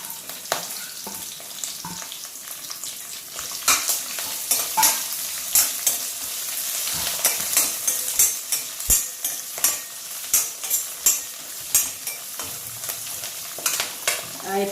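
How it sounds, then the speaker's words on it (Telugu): Onions and curry leaves frying in tempering oil crackle and sizzle while a spoon stirs them, giving repeated scraping scoops in a steady rhythm over the close, continuous frying hiss. "తాలింపు కొంచెం ఫ్రై అయింది. ఇంక ఇప్పుడైతే ఆనియన్స్ కరివేపాకు అయితే వేసేసుకుందాము."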